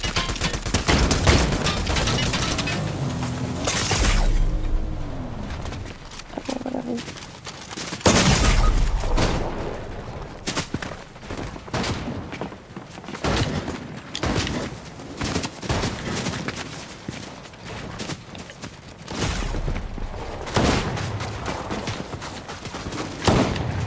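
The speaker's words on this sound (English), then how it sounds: "sniper rifle" Rapid bursts of video game gunfire, including sniper rifle shots, with loud cracks and booms in clusters and sustained volleys across a busy firefight, no clear speech.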